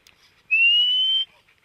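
A person imitates an eerie night whistle, producing one rising, sustained whistle of under a second, close and fairly loud, with only faint background sound before and after.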